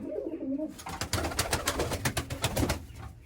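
A captured escaped pigeon coos close up, a quick run of throaty pulsing calls that rises into a steady rhythmic burbling, heard alone without talk.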